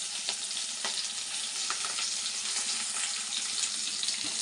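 Chopped onion and curry leaves frying in oil after mustard seeds have popped, for an eggplant gojju: a loud, continuous hissing sizzle up close with faint stirring scrapes, and nobody speaking.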